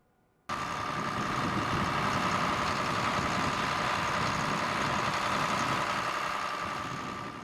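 A farm tractor running on GPS auto steering while harrowing and rolling a field kicks in after a moment of quiet, then holds a steady, fairly loud engine drone with a constant hum.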